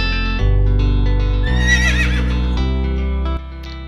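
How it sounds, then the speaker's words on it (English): A horse neighs loudly over a bright, steady musical backing in a children's alphabet song, the whinny rising and wavering near the middle and lasting about a second, with no talking. "H for horse."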